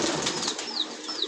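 A pigeon flaps its wings at its coop in a short, close flurry of feathery beats, with faint soft cooing-like whistles drifting through.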